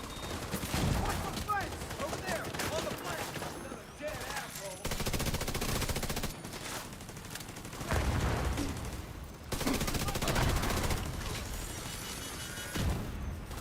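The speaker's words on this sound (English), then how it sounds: "Let me go shoot some people." Video game gunfire crackles in repeated bursts of rapid shots and fusillades, loud and close, with short pauses between volleys.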